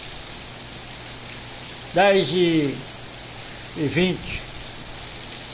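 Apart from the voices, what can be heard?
heavy rain falling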